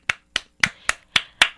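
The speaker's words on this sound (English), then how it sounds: "Let's get a clap" Six sharp hand claps from a talk show audience, evenly spaced about a quarter second apart, loud and close with no talk over them.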